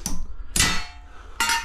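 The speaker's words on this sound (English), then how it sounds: "How you get concrete nails out, folks, is just bend it with a hammer." A hammer strikes a concrete nail set in a wall to bend it out. Three sharp metallic clangs come close and loud with ringing decay, spaced unevenly, and no talk.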